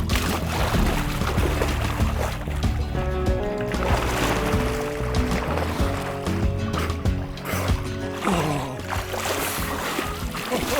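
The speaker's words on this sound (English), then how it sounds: "It is time to do a polar plunge in the Arctic Ocean." A person plunges into frigid Arctic Ocean water, sending up continuous loud splashing and sloshing that fills the whole stretch.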